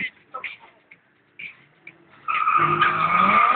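A red drag race car warms its tires on the start line at a quarter-mile event in Kąkolewo: after a few brief voices and faint clicks, a loud sustained tire squeal and revving engine rise abruptly and hold.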